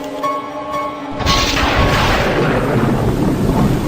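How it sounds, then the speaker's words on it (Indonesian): A thunder sound effect: after a brief quieter lead-in, a loud, sustained rumbling roar of thunder fills the space and rolls on steadily without fading. "Sesekali kilat mengundang petir untuk lewat."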